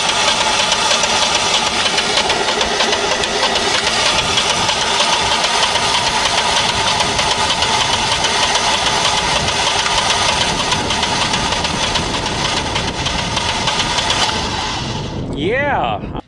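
An engine running on LP gas with the choke being set, heard as a loud, steady, close idle with a rough knocking undertone that carries on throughout before cutting off abruptly near the end.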